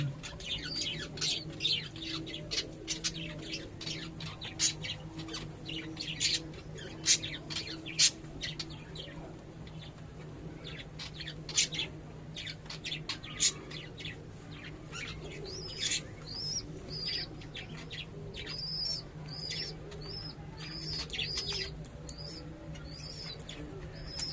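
A baby pigeon chick being hand-fed calls repeatedly, thin high-pitched cheeps and squeaks in quick irregular clusters, close and fairly faint over a low background hum.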